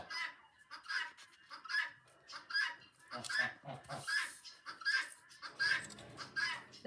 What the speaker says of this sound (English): The goose has been extra cheeky.